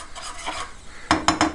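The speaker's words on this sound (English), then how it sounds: "Whisk it in, do whatever you got to do to mix it in." A whisk stirs flour into gravy in a pan, giving a few soft scraping strokes followed by three quicker, sharper clinks against the pan, close up with no talking.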